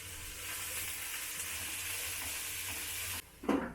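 Cabbage fries in hot oil with cumin seeds in a home kitchen, a steady loud sizzle running for several seconds before it abruptly drops off and a short stirring clatter follows.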